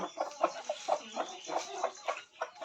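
A 2.5 kg country-breed rooster clucks in a steady run of short, close calls, one after another with brief gaps, and no talking.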